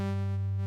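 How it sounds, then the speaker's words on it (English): FM synthesis tone from Ableton Operator, a sine carrier modulated by a square wave, holds as a steady buzzy sustained note with strong harmonics, alone and unchanging for under a second. "Sine wave modulated by square wave sounds like"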